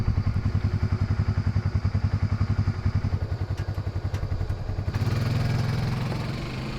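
A 1000cc mini trophy truck engine chugs in a steady, pulsing idle, then abruptly sputters and dies, leaving a lower, smoother hum; no talking.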